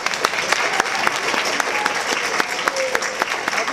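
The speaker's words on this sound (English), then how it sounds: "a super big round of applause" A concert audience gives sustained applause for the student tech assistant, steady clapping with a few sharper individual claps standing out, moderately loud and with no voice over it.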